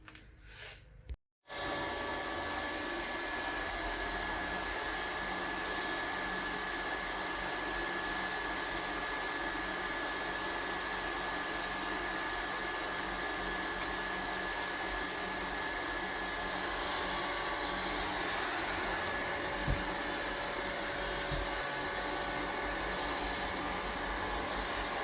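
A Neato Botvac D7 robot vacuum runs after a wheel motor repair, giving a steady, loud whirring hum that holds without a break, apart from a short gap at the very start, with no talking.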